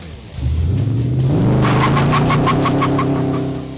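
The Mad Max Interceptor car, a home-built replica, rumbles close by and then accelerates, its engine note rising and pulsing loudly as it pulls away.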